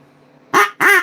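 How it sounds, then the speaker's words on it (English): Two loud, close honking quacks from an old Olds duck call made in Pekin, Illinois, blown in quick succession, each rough and nasal with a falling tail. "The regular duck call from Pekin, Illinois."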